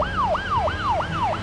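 A police car siren wailing in a steady repeating cycle, four quick rising-then-falling sweeps, loud and close over a low engine hum.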